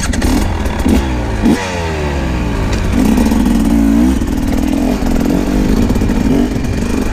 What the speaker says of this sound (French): on fait les premiers tours de roue sur cette 300 EC gaz 2025 édition GP